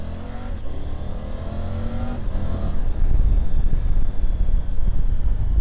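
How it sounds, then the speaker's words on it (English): Triumph Tiger 900 GT Pro motorcycle engine and exhaust revving up with rising, harmonic-rich tone, then settling into a loud, rumbling roar mixed with wind buffeting; no talk. "those bikes definitely improved the intake noise and the exhaust noise"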